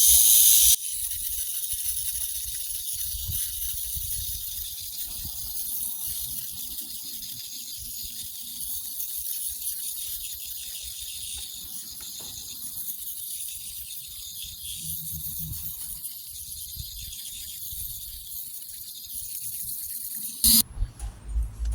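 An electric shaver buzzes in a steady, hissing drone for about twenty seconds, close up, with no talking.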